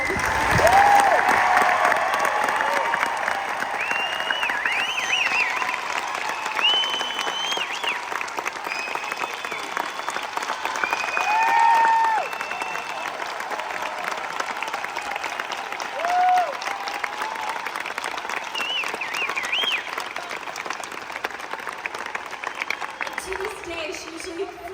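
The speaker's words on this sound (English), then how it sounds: "please give a huge round of applause for my" An audience at a concert in an outdoor amphitheater applauds loudly and steadily, dense clapping with scattered cheers and whistles that continues for the whole stretch.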